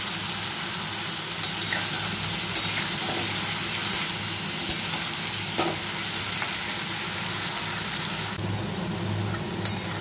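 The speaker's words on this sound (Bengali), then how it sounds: "এইগুলোকে একটু ভালো করে ভাজতে হবে, একদম লাল করে ভেজে নেবো" Pieces of taro frying in hot oil, a steady dense sizzle with light crackling throughout, close and fairly loud, without speech.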